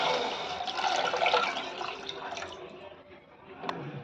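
Water pours noisily into a pot of sautéed masoor dal in a sustained splashing rush that tapers off, followed by a few faint clinks.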